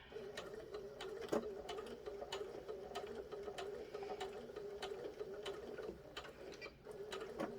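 A sewing machine back stitching a small lip balm pouch, a quiet steady mechanical whir with faint periodic clicks of the needle, close by and without talk.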